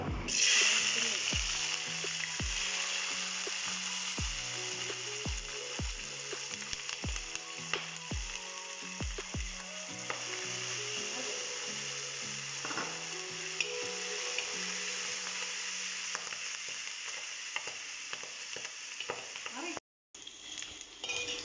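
Onion and garlic frying in a pan for a Kerala-style chicken dish, a steady soft sizzle with repeated clinks and scrapes of a spoon stirring, fairly quiet.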